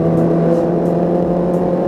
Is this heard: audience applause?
no